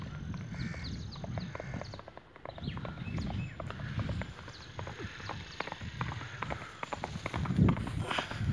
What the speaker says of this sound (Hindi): लो जी घोड़ी नसा दी जो ने